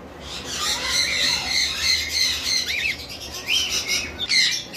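A pair of lory parrots at a bird farm let out loud, harsh squawks over a steady background hiss, several sharp calls across the stretch.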